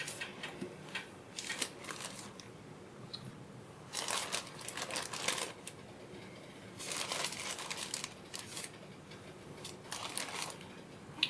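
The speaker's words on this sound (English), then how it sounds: "Next, I'm going to cut the mushrooms." Very small mushrooms are cut up for a vegetarian pasta sauce, making soft, close crunching and crinkling sounds in several irregular bursts separated by quiet pauses.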